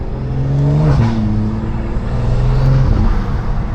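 A BMW 340i engine revs steadily, its pitch climbing and then dropping sharply at each gear change, loud and close with no talking.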